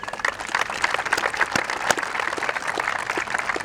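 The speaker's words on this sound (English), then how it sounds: "If you guys would give them a round of applause." Steady applause from a crowd at an outdoor shooting event, many hands clapping together at an even level for several seconds with no speech over it.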